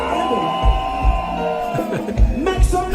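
Cheering and shouting from a reggae cruise festival crowd, steady and loud, with rhythmic deep bass thumps and musical tones running beneath the roar.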